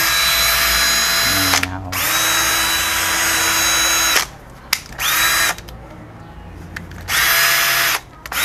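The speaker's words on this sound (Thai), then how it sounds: "ตอนนี้เราก็ประกอบเสร็จเรียบร้อยครับมาฟังเสียงกันเลยครับกับมอเตอร์ใหม่" Makita HP333D cordless drill running on a newly fitted motor, a loud, steady high whine in several bursts of a few seconds each, with short pauses and brief stops between them, heard up close with no talking.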